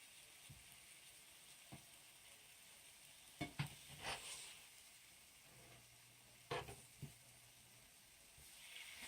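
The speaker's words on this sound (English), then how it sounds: "in order to cook the other side, I'm now going to flip the banana slices" Banana slices frying in a pan are flipped over, giving a few brief scattered taps and clinks over a faint low sizzle, quiet and close, with no speech.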